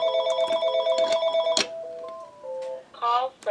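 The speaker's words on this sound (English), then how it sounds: "there comes my phone ringing again" A phone ringtone plays a repeated electronic melody of bright beeping tones, loud and near, followed by a short falling tune and a warbling ring; no talking over it.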